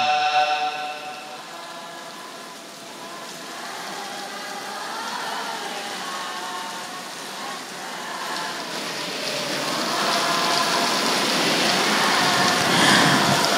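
Steady rain pours down in a dense, continuous hiss of drops on surfaces, swelling louder toward the end, with no voices over it.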